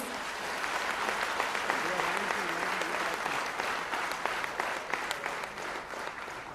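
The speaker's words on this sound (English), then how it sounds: "Ladies and gentlemen, I think that deserves a huge, huge round of applause." At a school toilet construction felicitation ceremony, an audience gives a long, full round of applause, many hands clapping steadily at moderate loudness, with a voice faintly audible underneath partway through.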